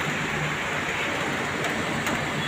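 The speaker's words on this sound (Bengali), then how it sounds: "বৃষ্টি নেমে গেছে" Steady rain falls during an unseasonal hailstorm, a dense continuous hiss with a few sharper patters, fairly loud and close, no voices.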